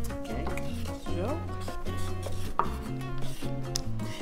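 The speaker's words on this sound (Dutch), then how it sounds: "Zoete aardappel, die mag je schillen. Schillen en vervolgens in stukken snijden." A knife chops peeled sweet potato into chunks on a board with quick repeated cuts, while a voice talks over the chopping.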